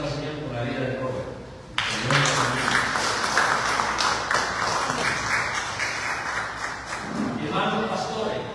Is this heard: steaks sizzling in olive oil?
no